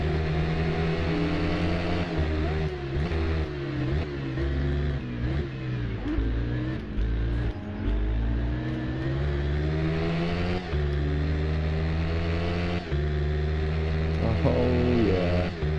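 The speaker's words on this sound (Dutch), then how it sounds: "Deze heb ik gemist jongens, deze motor." Motorcycle engine revving in the racing video game Ride, a loud continuous engine drone with rising and falling pitch and gear shifts throughout, under game audio.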